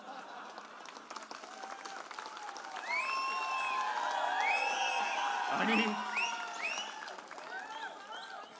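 Crowd applause with scattered whoops and cheers at a Shiv Sena political rally in Girgaon, Mumbai, building to a fuller roar midway under overlapping voices and shouting.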